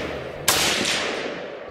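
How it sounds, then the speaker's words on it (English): A single loud gunshot cracks at a shooting range where rifles are being sighted in before a Maine bear hunt, followed by a long fading echo and no voices. "We did a lot of shooting that day, made sure all the guns were on."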